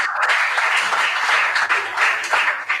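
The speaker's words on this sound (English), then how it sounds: "Can we give them a round of applause?" An audience at a school quiz contest claps together in a dense, continuous burst of applause that stays close and fairly loud throughout.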